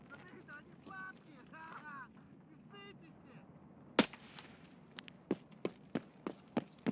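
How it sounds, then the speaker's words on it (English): A grenade explodes in the shooter video game Escape From Tarkov as one sharp, loud blast partway through, followed by a rapid string of gunshots, with someone talking beforehand. "I wonder who threw a nade in"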